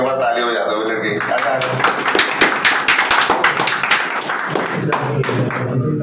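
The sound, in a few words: group clapping for selected candidate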